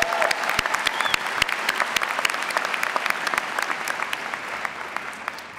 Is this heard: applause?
yes